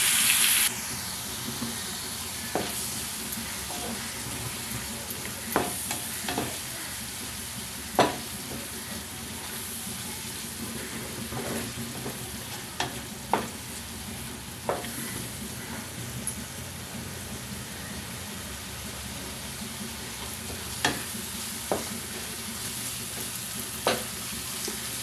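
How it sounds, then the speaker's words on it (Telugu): Ingredients for onion pachadi fry over a low flame in a steady, close sizzle, broken every few seconds by sharp clicks of a utensil stirring against the pan, with no speech. "లో ఫ్లేమ్ మీద మాడకుండా వేయించుకుందామండి"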